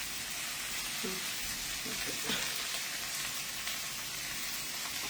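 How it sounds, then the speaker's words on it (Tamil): Food sautéing in a pan for a tamarind bitter gourd curry, a steady soft sizzle like light rain, with a few faint clinks partway through. "இது கொஞ்சம் நல்லா வதங்கட்டும்"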